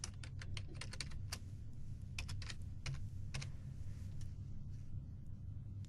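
Code is typed on a computer keyboard, a rapid uneven patter of close key clicks over a low steady rumble.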